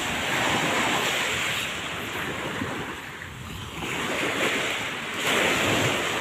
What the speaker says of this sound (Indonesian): sepertinya lumayan kuat ombaknya nih